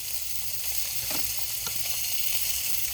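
Bacon sausages sizzling in a frying pan, a dense, steady hiss of fat crackling close up with occasional louder pops and spits, no voices.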